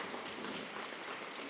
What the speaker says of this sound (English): Round of applause for Nitikorn Sisisawang from Team Mirage 91